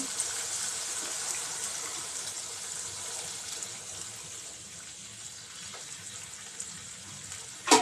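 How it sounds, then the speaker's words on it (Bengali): Broth is poured into a rui fish, yardlong bean and potato curry, making a steady continuous liquid gush close up that runs for several seconds and ends with a brief knock. "আমি এখানে ঝোল দিয়ে দিব এখন।"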